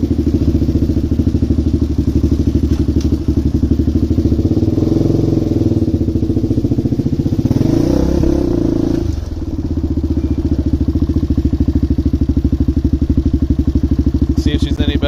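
A tuned DVX400 motorcycle being ridden, its engine a close, steady, throbbing rumble that swells briefly under throttle around the middle before settling back to an even drone.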